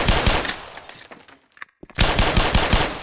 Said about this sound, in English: Standard 9mm submachine gun setup with an attached impact grenade launcher.